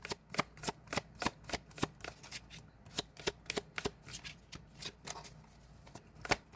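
Guidance cards being shuffled by hand for a card reading: a quick, close run of crisp riffling bursts in a steady rhythm, moderately soft, with no talking over it.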